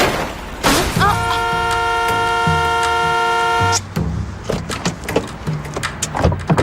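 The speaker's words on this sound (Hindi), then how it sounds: "पर देखो तो सामने कैसे ट्रैफिक लगा हुआ है" Car horns honk in a traffic jam on a shortcut road: one long sustained loud blare lasting a few seconds, followed by short scattered toots and bumps nearby, with no talk.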